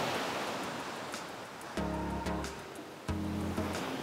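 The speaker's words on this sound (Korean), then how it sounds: "파도가 겁나 세네." Strong waves of the East Sea at Gangneung break against the shore. A constant roar of surf is punctuated by two heavier, booming crashes in quick succession, loud and close, with no voices.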